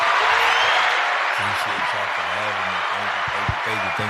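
A small audience in a podcast studio gives steady applause and cheering that fills the whole moment, while a voice talks underneath.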